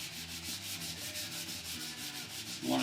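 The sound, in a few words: sanding a Les Paul guitar kit body with sandpaper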